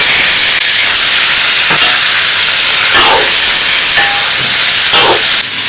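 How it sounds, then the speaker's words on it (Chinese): Pork belly dropped into a wok of hot oil for braised pork, producing a loud, continuous hiss and crackle close up with small pops scattered through and no talking. "留点底油，下入五花肉。"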